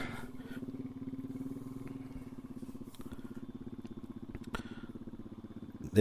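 A Royal Enfield motorcycle idles nearby with a steady, even thump that runs throughout, punctuated by a few light clicks and knocks as the rider gets ready, without any voices.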